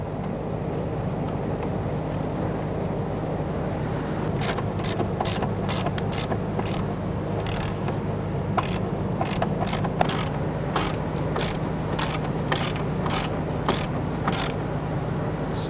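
A ratchet tightens a bolt on the fuel filler neck of a 2006-2012 Toyota RAV4, sounding as rapid, close clicking bursts in a regular rhythm over a steady low background hum, with no talk.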